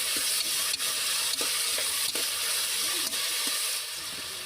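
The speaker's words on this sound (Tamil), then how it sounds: "அதையும் சேர்த்து நல்லா வதக்கி விட்டுறலாங்க." Onions, dried red chillies and tomato sautéing for biryani, a steady frying sizzle with a few stirring scrapes and clinks of a spoon against the pan, close and continuous.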